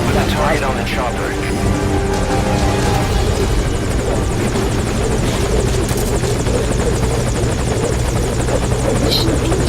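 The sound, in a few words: helicopter in video game Metal Gear Solid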